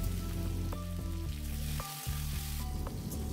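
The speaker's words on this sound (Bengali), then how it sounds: "সর্ষের তেল গরম করে এঁচোড় আর আলুটা 5-6 মিনিট ভালো করে ভেজে নেব।" Boiled jackfruit and potato frying in hot mustard oil with salt and turmeric, a loud, continuous close-up sizzle with occasional stirring scrapes, no voices.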